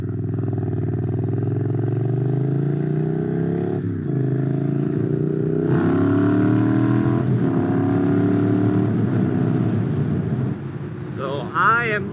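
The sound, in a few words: motorcycle riding in rush hour traffic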